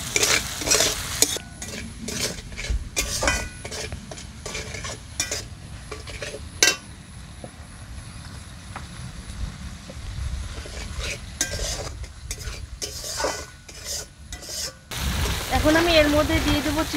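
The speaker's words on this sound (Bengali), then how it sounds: "এবার নেড়ে চেড়ে নেব।" Spices sizzle and fry in a pan while a spoon scrapes and stirs in repeated bursts, close up, with a voice briefly near the end.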